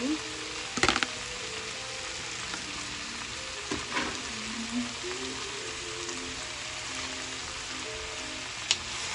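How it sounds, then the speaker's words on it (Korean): Vegetables stir-frying in a seasoned cast iron pan over low heat: a steady, close sizzle throughout with a few clanks of a utensil, and voices talking quietly underneath. "볶아주겠어요"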